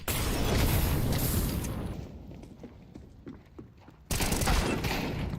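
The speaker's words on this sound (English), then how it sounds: "Throwing a grenade." In The Finals, a thrown grenade bursts into a loud crackling roar of blasts, dies back to a quieter rumble, then erupts again with another heavy explosion up close.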